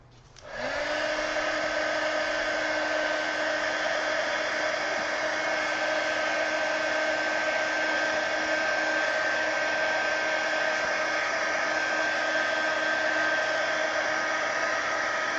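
A hair dryer switches on and runs at a steady, loud whirring roar for the whole stretch, drying wet layers on a coloring page, with no talk over it.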